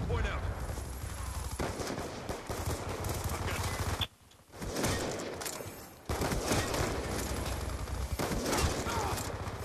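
Sustained bursts of light machine gun fire in a first-person shooter game, rapid and loud, briefly cutting out before resuming, with a voice talking faintly underneath.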